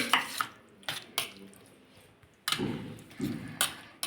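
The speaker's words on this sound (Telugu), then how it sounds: "ఈ పెద్దలపాయ ముక్కలు ఇలా గోంగూరలో కలిపేసేసి" Chopped onion pieces being mixed by hand into gongura (sorrel leaves), giving soft, wet squelching and rustling pushes in bursts, with a few sharper clinks against the bowl, close and fairly quiet.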